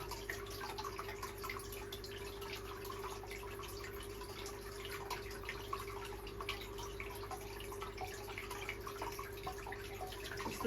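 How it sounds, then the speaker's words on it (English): Water running continuously into a 3 ft aquarium tank through a temporary filter setup, a steady close trickle and splash with a low constant hum underneath. "It's the noise of the water running."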